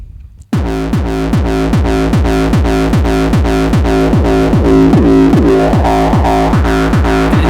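Hardstyle kick drum processed with EQ and distortion, a loud pounding four-on-the-floor pattern of heavy, pitched, saturated kicks starting after a brief silence and repeating steadily to the end.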